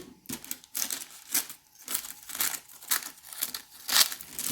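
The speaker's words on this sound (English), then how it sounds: "we're going to take our scissors and we're going to cut around" Scissors cutting parchment paper around a cake pan: rhythmic crisp snips with crinkling paper, close up, in repeated short bursts roughly every half second.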